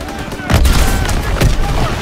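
A mounted machine gun in the Call of Duty WW2 game fires in loud, booming bursts, two heavy blasts standing out over a dense rumbling battle background.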